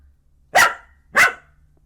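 A pet dog named Zai gives two sharp, loud barks about half a second apart, close by, with no talking.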